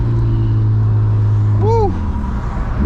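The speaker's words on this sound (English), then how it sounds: "Oh my God, this car screams. This car literally screams." A manual BMW E36 drives through hills, its engine droning loud and steady up close with a brief rising-and-falling whine partway through.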